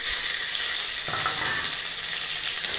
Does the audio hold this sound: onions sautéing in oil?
yes